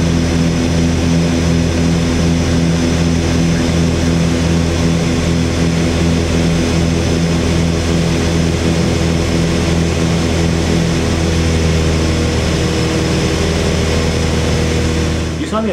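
Twin-engine Piper Seneca propeller airplane in flight, heard from inside as a loud, steady engine drone with prop hum that holds constant throughout, shifting slightly in pitch near the end.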